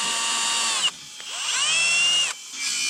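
A power drill backs out a broken screw held in a clamp during work at a remote dry cabin in Alaska, its motor whining loudly and close, with brief pauses and pitch shifts between bursts.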